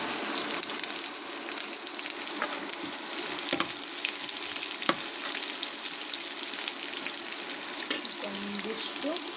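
Garlic sizzling and frying in oil in a pan for a spicy puffed-rice snack, a steady crackling hiss close by throughout, with occasional clinks and faint voices in the background.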